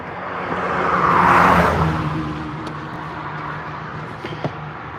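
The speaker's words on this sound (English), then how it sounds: "Sorry if the cars are really loud." A car swells past nearby and fades, leaving a steady hum of traffic with a couple of faint clicks.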